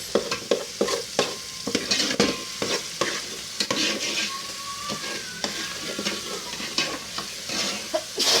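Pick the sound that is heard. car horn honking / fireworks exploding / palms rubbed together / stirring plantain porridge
stirring plantain porridge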